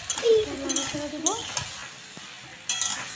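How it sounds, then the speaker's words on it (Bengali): Vegetables fry in a wok with a light sizzle while a utensil stirs and scrapes against the pan in short, uneven strokes. "তারপরে আমি কড়াইটার মধ্যে ছেড়ে দিলাম সবজিগুলো। এখন সবজিটা দিয়ে নাড়াচাড়া দেবো"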